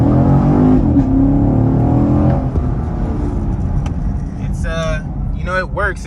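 Car engine held at launch-control RPM with the brake pressed, a loud steady roar at the start that eases into a lower rumble, with someone talking over it.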